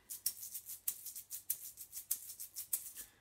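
An egg shaker filled with rice gives soft, fine-grained shaking in a regular rhythm, with crisp accented strokes roughly every half second, close up and quiet with no talking.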